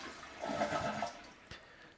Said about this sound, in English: So we're going to go ahead and flush it now that the water is off.